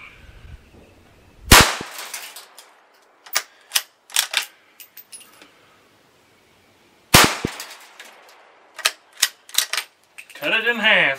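Shots from a 17HMR Marlin Model 17V rifle fired into concrete, two separate volleys of sharp, loud cracks in uneven rapid succession with silent gaps between, ending in a brief warbling tone.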